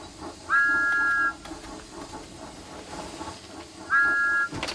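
Two loud, steady steam whistle blasts, each about a second long, separated by a pause filled with hissing and chuffing.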